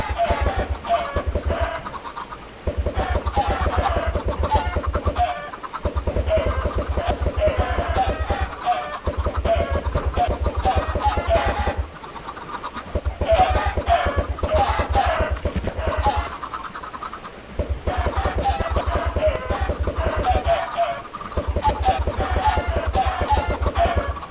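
Many Minecraft video game chickens clucking at once, a dense, loud chatter of squawks in bursts separated by brief pauses.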